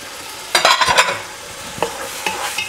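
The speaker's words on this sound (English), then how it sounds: "We can add all of our tomatoes and just put it straight in there." Tomatoes stirred into a pan of cooked onion and garlic for chicken kabsa produce loud, close scraping strokes in a quick cluster, then a few more spaced stirs over a faint sizzle, with no voices.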